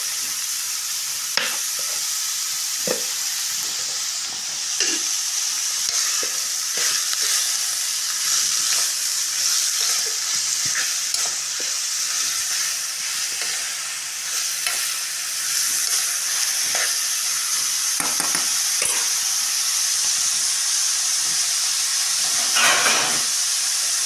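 Onions sautéing in a pan for a moong dal vadiyalu curry, a steady bright sizzle running throughout, with frequent scraping stirs and clinks of a spatula close by.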